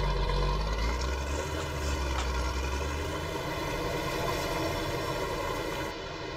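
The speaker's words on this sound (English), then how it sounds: "this big old tractor" A big old tractor engine drones steadily while ploughing a field, with a loud, constant low rumble and mechanical hum close by and no talking.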